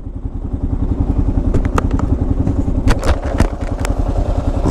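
Kawasaki KLR motorcycle riding on pavement, its engine thumping in a fast steady pulse close up, with scattered clatter and wind buffeting over it.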